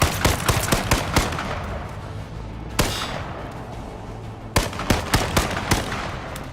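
Rapid bursts of gunfire crackle in quick volleys in the battle royale video game H1Z1, with a few louder sharp shots standing out over a continuous noisy din.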